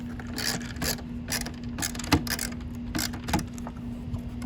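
Parts tightened down on plastic trim during a CarPlay install in a 2006–2011 8th-gen Honda Civic: a run of quick ratcheting clicks in short bursts, close and fairly quiet, over a steady low hum, with no talking.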